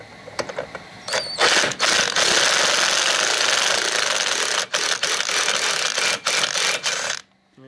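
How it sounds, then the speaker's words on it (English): A bolt is turned to spread apart the clutch on a 2003 Ski-Doo Blair Morgan snowmobile, giving a loud, close mechanical whirring grind that runs almost continuously. It is broken by a few short pauses and stops near the end. "we're going to spread the clutch apart with the bolt"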